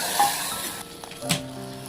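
Tempering spices sizzle in hot oil for a raw tamarind stew, a steady crackling hiss with a brief clink of a utensil partway through.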